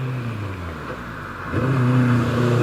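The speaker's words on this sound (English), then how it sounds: "Lovely Jaguar straight six sound from this much modified E-Type that Hayden's competed in." A much-modified Jaguar E-Type with a 4.2-litre straight-six engine revs at a hillclimb. It idles low and steady at first, then the note rises and strengthens into a loud, sustained rev for the final second.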